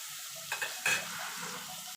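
Eggplant pieces with salt and turmeric sizzle in a pan for neem begun bhaja, a soft continuous fry broken by two quick clinks and scrapes of a spatula stirring; no voices.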